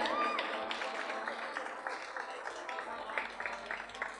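Audience applause at a concert by a Macedonian folk dance ensemble from Melbourne, performing in Ohrid: steady, dense clapping from a crowd that holds at an even level throughout.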